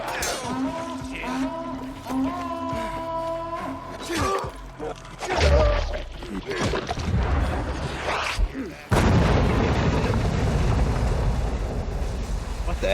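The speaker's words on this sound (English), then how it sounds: "They put a cannon on a nearby building." Cannon fire in the video game Dying Light 2: heavy booming blasts and shattering crashes break through game music and voices, ending in a loud, sustained rumbling roar.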